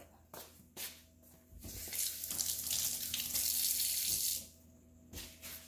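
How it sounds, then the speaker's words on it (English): A kitchen tap runs for a few seconds while hands are washed, a close, steady hiss of water framed by small clunks and splashes before and after. "So let me wash my hands and then we'll get started."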